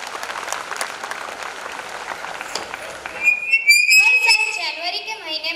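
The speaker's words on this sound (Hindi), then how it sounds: "पर शर्त यह है कि एक बार जोरदार तालियां हो जाए।" Loud, dense audience applause at a New Year's Eve carnival show, steady for about three seconds before giving way to whistling and a brief burst of music-like tones.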